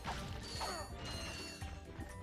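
Metal bolts clink and rattle in quick bursts as a magnetic wrench pulls them in, in the game Ratchet and Clank, faint mechanical jingles over a steady game backdrop.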